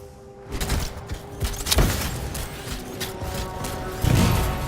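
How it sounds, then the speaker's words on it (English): Canisters exploding in the video game Anthem: a burst of crackling blasts and thuds, with a deeper boom near the end, over a continuous game soundscape. "It'll be a contained explosion."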